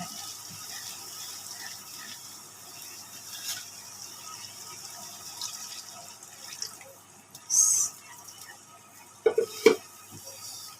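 Water is poured into a pan of fried masala for mash daal mangochiyan, making a brief close gush with splashing. It follows quiet kitchen clatter and a few drips, and no one speaks.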